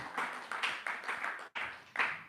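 An audience claps at a gathering, with steady pulsing handclaps that briefly stop and then resume at a moderate level, and no talking.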